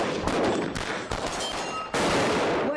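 Rapid volleys of gunfire from a police special operations drill in Tulsa crackle in dense, overlapping bursts with brief gaps, loud and close, with no voices.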